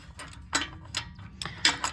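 A ratchet and extension turning an oxygen sensor on a 2018 Chevy Colorado give several short, close clicking bursts in an uneven rhythm, with no talk over them.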